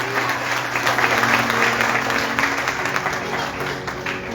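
Loud, sustained applause from a church congregation at a live worship service, steady dense clapping filling the room for several seconds with a murmur of voices beneath.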